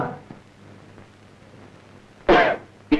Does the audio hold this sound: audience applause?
no